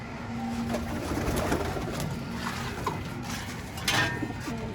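Pigeons coo repeatedly in a busy, enclosed space, with rustling, faint clatter and bird sounds layered together at close range.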